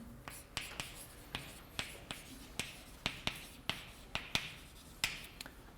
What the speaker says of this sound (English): So let me write this down.